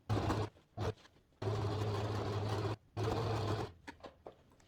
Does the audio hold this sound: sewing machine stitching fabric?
yes